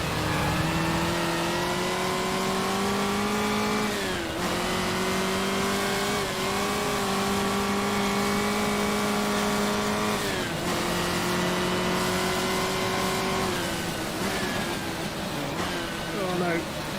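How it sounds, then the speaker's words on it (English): Race car engine from the rFactor historic GT and touring car mod revving hard, pitch climbing through gears with sharp drops at shifts around 4 and 10 seconds, loud and continuous with small off-throttle pops and crackles. "lots of different little noises going on when you're on or off throttle"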